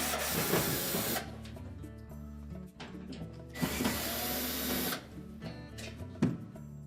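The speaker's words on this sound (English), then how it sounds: "we'll next remove these two screws that secure this access panel in place" Screws are removed from the rear access panel of a Whirlpool washer, with long whirring bursts of a driver broken by short mechanical clicks and rattles, heard close and alone.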